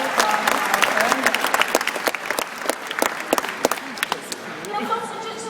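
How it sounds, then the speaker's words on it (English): Audience at a beluga show at Shedd Aquarium claps for a guest named Dakota, a loud burst of applause with sharp individual claps standing out, fading as a voice begins talking over it near the end. "Let's have one more big round of applause for Dakota from California"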